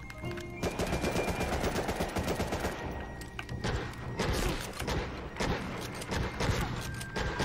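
Rapid automatic gunfire and single shots in Medal of Honor Rising Sun multiplayer on PS2 rattle in dense, loud bursts, crackling near and far with short pauses between volleys.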